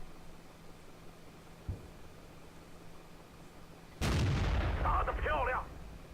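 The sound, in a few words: tank cannon shots hitting tracks in World of Tanks video game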